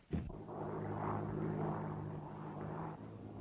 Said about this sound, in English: Somebody's stealing the plane.